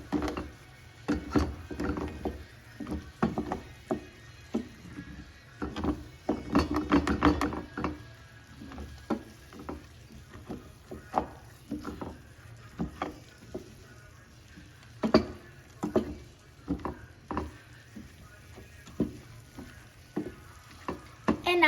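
A spoon stirs saffron risotto in a pan with a steady run of short scraping strokes over a soft, continuous sizzle, fairly close and without voices.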